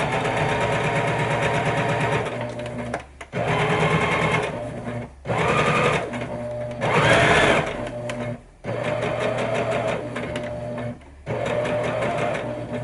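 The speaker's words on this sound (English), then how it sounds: "So here we go, just a regular straight stitch." A sewing machine runs a regular straight stitch on a fabric Easter bag, its fast loud whirring mechanical hum in several bursts broken by short pauses, close up and without voices.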